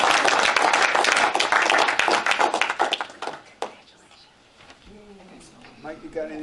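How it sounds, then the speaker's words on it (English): Applause from attendees at a township board meeting, a loud burst of clapping from a modest group that thins and fades after a few seconds, followed by people talking. "Round of applause for everybody,"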